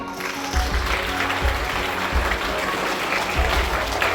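Clapping from schoolchildren at a morning assembly after a third-class student answers general knowledge questions, a dense steady patter with periodic low thumps, sustained throughout at moderate loudness.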